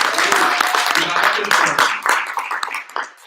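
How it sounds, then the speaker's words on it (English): Brief applause from an audience at a university three-minute thesis competition, irregular claps mixed with voices, thinning out and fading toward the end. "Let's get a round of applause for us for being here"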